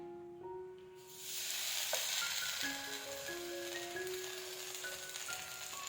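Semolina batter hits hot oil in a wok and a loud, steady sizzle rises and holds, with faint metallic scraping and a light background hum.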